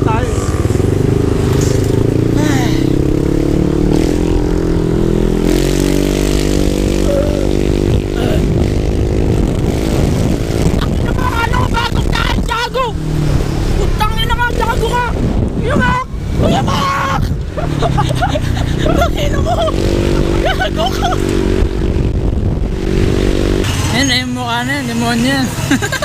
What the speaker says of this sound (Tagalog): Ayan guys, motor ni Kuya Mac ko